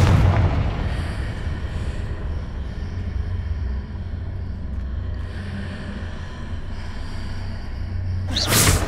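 A Confringo fire-blast spell explodes in Hogwarts Legacy, a deep rumbling boom carried by sustained low roaring, with a sharp burst near the end.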